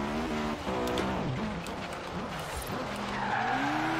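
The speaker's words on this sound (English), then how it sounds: "So let's try out this drift zone." An Acura Integra Type R drifts through a drift zone in Forza Horizon 3, its tires squealing in long wavering howls over a steady, loud engine roar.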